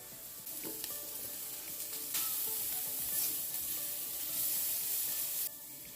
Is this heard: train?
no